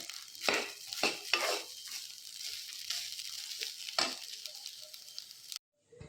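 Onions sizzle and crackle loudly in a pan for a Mangalorean pathrode dish, with repeated scraping stirs and clinks of a utensil against the metal, then the sound stops abruptly.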